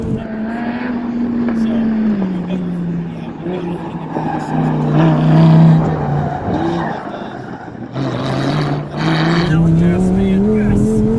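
A Lamborghini engine held at full throttle drones loudly and steadily on a track, its pitch sliding down and climbing again with gear changes and speed, while a coach's voice talks over it.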